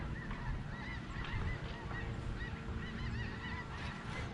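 A flock of geese honking while flying in V formation, dense overlapping calls from many birds throughout, moderately loud over a steady broadband background outdoors.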